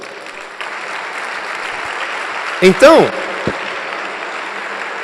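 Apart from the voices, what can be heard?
congregation applauding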